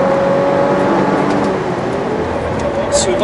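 An Audi RS4 B9 estate accelerates hard around the Paul Ricard circuit, its engine a steady loud drone with a rising tone heard from inside the car, while someone talks over it.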